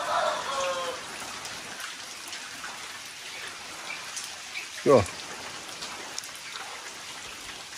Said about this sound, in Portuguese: Um pouco de chuva, um minutinho de sol e chuva de novo.